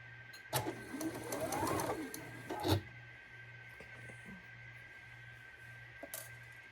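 A sewing machine stitching a quarter-inch quilt seam at a 2.0 stitch length for a Double Wedding Ring quilt, a steady fast mechanical whir with clicks and fabric handling, close, alone without talk.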